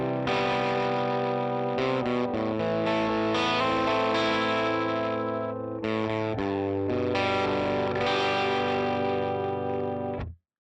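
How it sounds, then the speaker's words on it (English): An electric guitar plays chords and riffs through a 59 Tweed Lux amp model based on a 1959 Fender Deluxe, with a clean-crunch tone. It is steady and continuous with no talking and cuts off sharply at the end. "The 59 Tweed Lux is based on a 1959 Fender Deluxe. This is great for clean and clean crunch tones."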